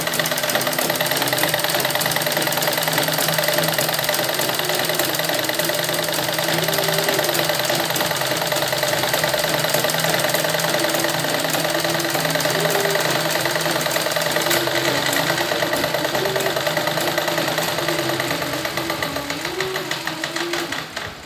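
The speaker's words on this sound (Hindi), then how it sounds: "डबल सिलाई कर देंगे हम" A sewing machine runs continuously while double-stitching the seams of a suit, giving a steady, close mechanical whir with fine rapid ticking that fades slightly at the end.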